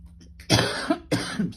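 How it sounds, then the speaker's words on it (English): Two sharp, close coughs from one person in a quiet room, a short gap between them. "That wouldn't be one of my videos without a cough in it."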